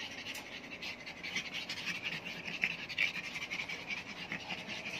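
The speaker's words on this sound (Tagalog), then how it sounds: "si Dali, yung pag na hinihingal-hingal ng ganyan." A pet dog pants steadily and rapidly close by, a continuous rhythmic huffing that runs throughout with occasional faint scratching.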